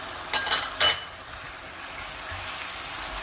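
Chicken stir-fry sizzling in a hot pan, a steady close hiss of frying with a few louder bursts as food is stirred or tossed, no voice over it.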